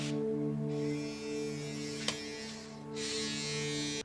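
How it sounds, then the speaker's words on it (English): Electric razor shaving a man's head in a 1991 movie gives a steady close buzzing drone that shifts in pitch as it moves over the scalp, with a tiny click partway through, no talk. "then uses an electric razor to shave his head"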